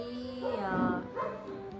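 A pet dog barks and yips at a family home in Nepal during Kukur Tihar, the festival day honouring dogs. A few short, close barks come with whiny yips over a stretch of under two seconds, with voices nearby.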